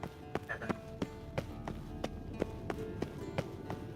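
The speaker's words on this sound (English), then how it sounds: "Basically वो horse race है." Horse hooves galloping during a horse race in The Witcher 3 video game, a steady run of regular clip-clop beats at moderate volume with no talk over them.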